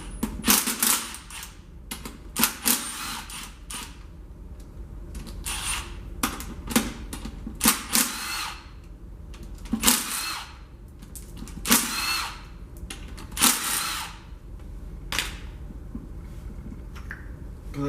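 Power tool spinning out 10 mm bolts from the bell housing of a B13 Nissan Sentra transmission during teardown, in a series of short, loud whirring and rattling bursts with brief pauses between them.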